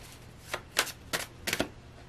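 Tarot cards being drawn and laid down during a reading, giving a handful of soft, papery swishes and slaps spaced about half a second apart, close and fairly quiet with no talking.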